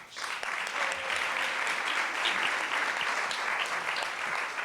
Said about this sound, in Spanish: me gustaría que le dieses un aplauso